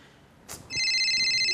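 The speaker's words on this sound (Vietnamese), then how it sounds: "Anh nghe điện thoại đi." A telephone starts ringing after a brief knock or rustle, its bright electronic bell tone holding steady and loud through the rest of the moment, with no talk over it.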